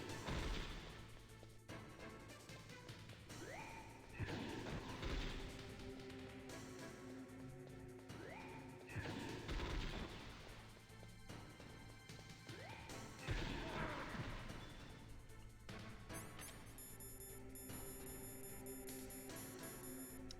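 Repeated flashbang explosions in the Metal Gear Solid video game, a series of loud, crashing bursts every few seconds over a steady backdrop of game noise.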